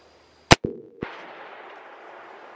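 A 350 Legend revolver fires a single 150 grain Extreme Point round at close range outdoors, one sharp loud crack followed by a quick metallic clang and a short echo, then a steady hiss of background noise.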